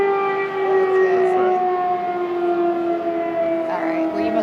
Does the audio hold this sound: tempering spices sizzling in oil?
no